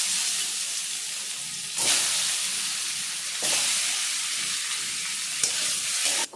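Magur catfish pieces dropped into a small amount of very hot mustard oil in a well-heated kadai: a loud, close, hissing sizzle that surges sharply three times as more pieces go in.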